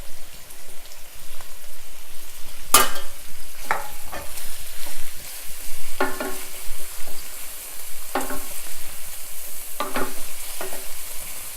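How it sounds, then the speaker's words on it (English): Broccoli stir-fried in a pan, with a low sizzle and repeated clattering strokes of a spoon or spatula at irregular intervals, close and fairly loud. "So I'm going to add the broccoli now and stir fry the broccoli."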